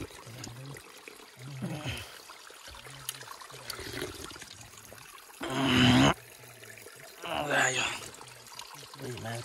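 Mountain spring water trickles steadily, caught by hand to drink during a monsoon trek high in Dhorpatan, Baglung, Nepal. Louder splashing bursts rise twice over the flow, and someone talks nearby throughout.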